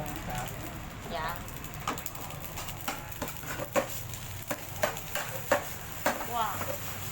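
Rice frying and being tossed in a pan at home, with soft sizzle, clattering pan and utensil knocks in irregular bursts, under nearby talk.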